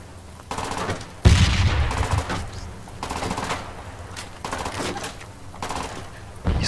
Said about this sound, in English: He starts shooting desperately at him.